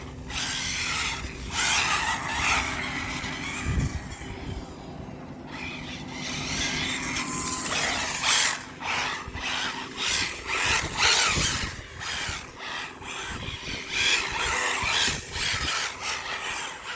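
An ARRMA Typhon 6S V4 RC car on foam tires driving and accelerating, with a whining electric motor rising and falling in bursts, mechanical rattles and surface noise as it runs near and then farther off.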